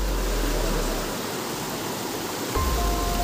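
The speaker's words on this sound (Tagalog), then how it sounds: "Umiikot yung tubig" Water swirling and rushing steadily in a broad, noisy wash at close range, with a low rumble underneath, shifting slightly near the end.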